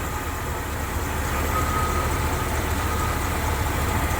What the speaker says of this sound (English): And I'll show you the engine. 305.